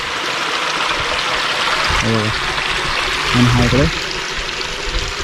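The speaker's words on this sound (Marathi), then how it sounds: "इकडे झरा आहे बघा दगडी खालून पाणी येते" Spring water trickling out from under stones in a rural hillside setting makes a steady, close rushing wash, with a person speaking briefly over it.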